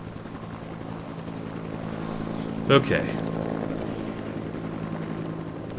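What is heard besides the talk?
helicopter flying overhead in video game Project Zomboid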